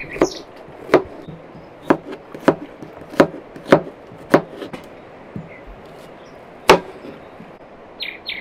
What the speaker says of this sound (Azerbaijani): Örtmənin soğanı doğruyuruq, ay şəkilində.